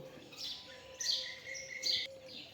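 Bulbuls chirp at a Khodiyar Mata temple, several short bright calls in quick bursts over a quiet background hum.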